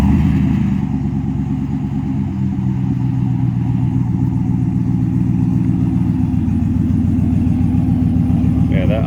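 A 2021 RAM 1500 with the 5.7L V8 and a Borla S-Type exhaust idles warm, a loud, steady low rumble that holds throughout with a slight lope.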